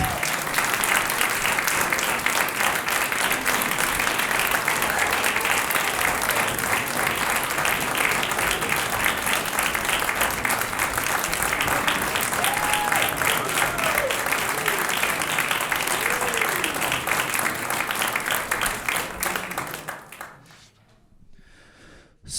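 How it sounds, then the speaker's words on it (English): An audience gives a long, loud, sustained round of applause for a mariachi ensemble. Dense clapping continues for about twenty seconds, with some whoops mixed in, then tapers off abruptly. "give a real big round of applause, so they know they have to come out"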